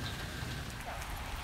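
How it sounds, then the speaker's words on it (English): Steady rain pounding outdoors after a full day of downpour, a dense constant hiss of drops on surfaces that stays even and moderately loud throughout with no voices. "You hear the rain pounding."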